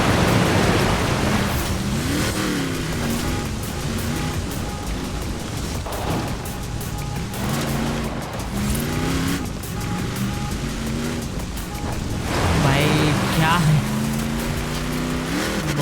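A six-wheeled 6x6 off-road vehicle in the racing game Forza Horizon 4, its engine droning steadily with shifting pitch and tire noise throughout, while a voice talks over it.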